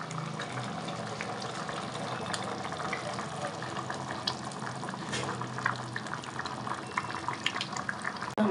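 Soup pot of okra soup with blended okra added, a continuous close bubbling and gentle simmering hiss with scattered small pops.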